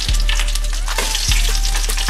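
Fish frying in oil in a bent pan gives a loud, dense, continuous sizzle, close up, with low thuds from the pan or utensil and no voices.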